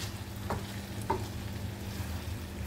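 Chicken kondattam cooks uncovered in a pan, with a quiet continuous sizzle and two brief stirring knocks early on, otherwise even and calm.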